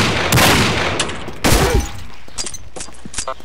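Several sharp video-game gunshots from a Deagle SE pistol ring out in quick bursts, with loud impact cracks and shattering between them, up close and without talk.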